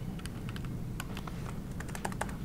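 Typing on a computer keyboard at a conference talk, a quick irregular run of light close key clicks over a steady background hum, with no talking.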